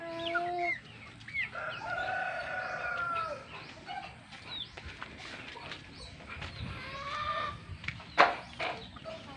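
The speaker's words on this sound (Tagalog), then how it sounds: "Pipili lang tayo ng ilang hen at saka cock na pwede natin gawing additional breeder" Hens and roosters on a farm cluck and crow steadily together, several birds calling at once at moderate distance, with scattered squawks and no talk.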